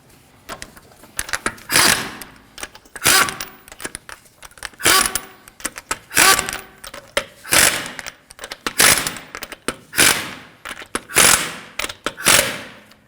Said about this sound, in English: Snug them down, but not too tight, because you want to be able to torque them